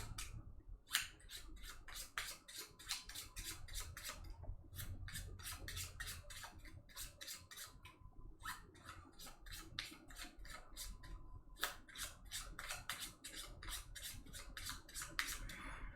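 Board game cards are shuffled in quick riffling bursts, each a rapid flutter of card edges followed by a short pause, repeated about four times, close and fairly quiet, with no talking.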